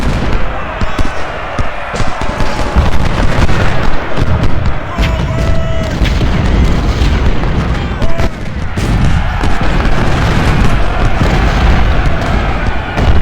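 Booming artillery and crackling musket volleys from an Antietam battle in Ultimate General Civil War roll on continuously, loud and dense, with someone talking over the din throughout.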